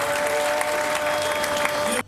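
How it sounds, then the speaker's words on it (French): Dense, steady applause from a large crowd at a retirement celebration, loud and continuous throughout, with a faint voice or hum mixed underneath. "On applaudit bien fort, mesdames et messieurs."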